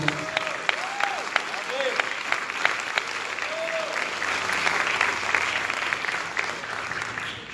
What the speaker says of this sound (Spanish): Denle una ofrenda de palmas al Rey, por favor.